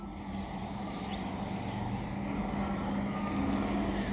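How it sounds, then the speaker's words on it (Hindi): An electric mixer-grinder jar whirs steadily while blending cumin, black salt and water into chutney, a loud continuous motor drone with a low hum and no change in pitch. "और इसको ग्राइंड कर लेंगे।"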